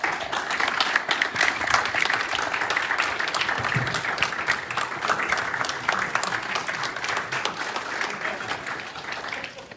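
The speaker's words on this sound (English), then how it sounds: "give our family members that are here tonight a strong round of applause" A roomful of people at an evening Masonic past masters' event applauds family members in attendance, sustained brisk clapping that stays fairly level for about ten seconds before tapering off.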